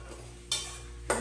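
Sauce with garlic and onions stirred in a pot for braciola, two brief scraping swirls of a spoon over a low, steady background hum.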